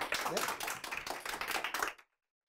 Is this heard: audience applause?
yes